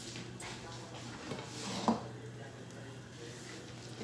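A cooking pot is set down in a home kitchen with a single brief, faint metallic clunk against a quiet background hum.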